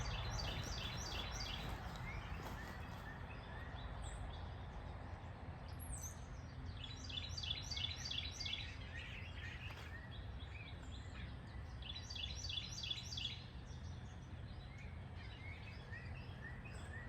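Bluebirds calling near their nest box, with repeated short chirping phrases coming in bursts at moderate distance over a low steady outdoor background hum, no talk.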